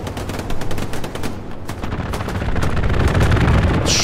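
Strafing run gunfire on the Utah Beach map of Hell Let Loose, a loud sustained roar of rapid automatic shots with rumbling low end that builds and intensifies over several seconds, no talking.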